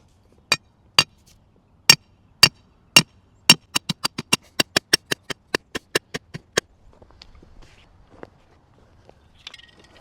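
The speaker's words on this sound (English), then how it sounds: "So now when I go tap in these 36-inch pieces of rebar into the other 3 holes" Sharp metal-on-metal hammer blows drive 36-inch steel rebar into the ground for a timber-frame firewood stand: about fifteen loud, distinct strikes, spaced at first and then coming faster, followed by quiet shuffling.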